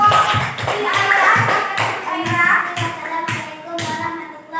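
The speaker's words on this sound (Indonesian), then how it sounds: "tepuk tangan untuk kelompok si Aira" A classroom of young students claps for a student group, with rhythmic, fairly close hand claps in a loose pulse and children's voices chattering over them.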